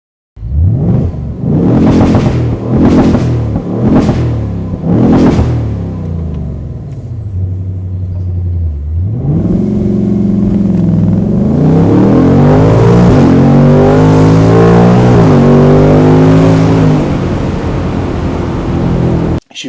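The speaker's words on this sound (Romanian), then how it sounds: "Sunetul ăla de V8 absolut răgușit tot timpul." A Ford Mustang GT V8 revs hard in a series of five rhythmic blips, then settles into a deep idle before a long, loud, rising rumble of sustained acceleration.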